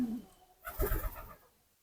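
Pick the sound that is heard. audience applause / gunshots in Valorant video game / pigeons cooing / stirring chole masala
pigeons cooing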